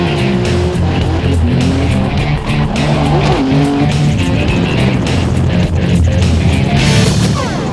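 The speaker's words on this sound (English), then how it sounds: "The GTR dashed up this winding 8-kilometer road at mind-boggling speeds" A Nissan GT-R drift car charging up the winding Hakone Turnpike hill climb, its engine roaring loud and constant with shifting revs, bursts of tire squeal and skidding throughout.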